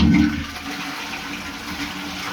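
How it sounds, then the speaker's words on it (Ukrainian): A toilet flushes with a loud initial rush, then settles into a steady low gurgle of water draining through a riser pipe with a cracked tee fitting. "я змиваю, дивіться, зараз потіче вода."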